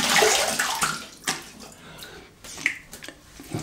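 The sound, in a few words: rinsing razor or face with running water after shave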